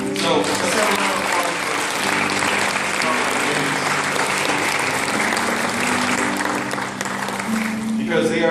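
A church congregation applauding a recent birthday, a dense sustained round of clapping from many hands close by, with voices mixed in throughout before it tapers at the end.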